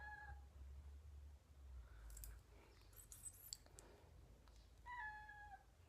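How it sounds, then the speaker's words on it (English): A small new pet kitten meows twice, a short cry near the start and another near the end, faint and close in a quiet room with light clicks and rustles in between. "That's our new little kitty."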